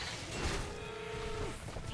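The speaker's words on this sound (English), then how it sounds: "Is that a cow?" A single drawn-out cow moo from Final Fantasy XIV, loud and steady for about a second over busy game background noise.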